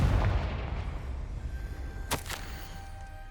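A Confringo blasting curse explodes in Hogwarts Legacy with a sharp, loud double crack about two seconds in. A brief whoosh follows and fades over a low rumbling background. No voice is heard.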